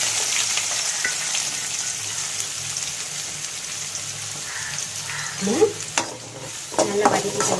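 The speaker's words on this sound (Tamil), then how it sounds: "நல்லா வதக்கிக்கலாம். இது வெங்காயம் நல்லா வதங்கிடுச்சு." Onions and green chillies sauté in a hot pan, giving a steady crackling sizzle with occasional stirring scrapes and clinks near the end, close and moderately loud.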